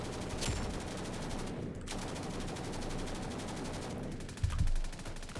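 Sustained automatic fire from a light machine gun in the BRM5 shooter game, a dense continuous roar of rapid shots with a couple of brief pauses and a heavier thump near the end.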